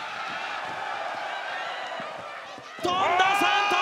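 A women's pro wrestler dives off the top rope onto her opponent in an arena, landing with a sudden heavy thud that lifts the crowd noise, while an announcer commentates throughout.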